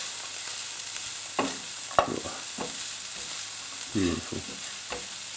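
Minced beef with paprika stirred in a hot frying pan for a beef burger, a steady sizzle under intermittent scraping strokes of a spoon against the pan, with a brief spoken word.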